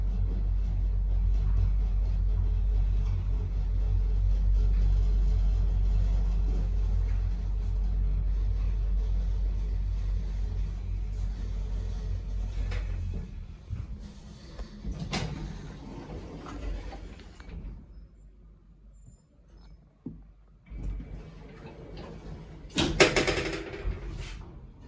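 Schindler M-Series elevator with Miconic V controls at a hotel in Barcelona riding down, with a steady low hum of travel, then quieter stretches broken by a few thumps, bumps and a louder clunk near the end.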